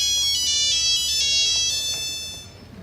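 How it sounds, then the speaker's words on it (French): A mobile phone ringtone rings out, a bright repeating electronic melody, fairly loud and close, fading toward the end with no talk over it. "Attends, mon téléphone sonne, ouais."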